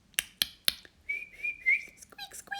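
A human voice imitates dolphin sounds: three sharp clicks, then a rising whistle and a run of high squeaks, close and clear with no other sound.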